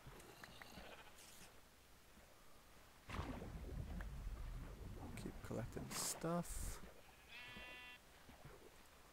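Sheep bleat a few times in a blocky sandbox video game, short pitched cries against soft game ambience, with a player talking over parts of it.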